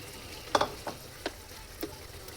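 Liver goes into a pan of cooking menudo with a few scattered clacks and light sizzling scrapes, a cluster of sharp hits followed by several softer separate taps over a quiet background.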